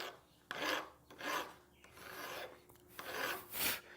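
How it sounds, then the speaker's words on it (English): A hand file rasps across metal to take down a gouge, several close, rhythmic strokes, each a harsh scraping burst followed by a short pause. "let's take a couple of passes with this file and get this big gouge here down first"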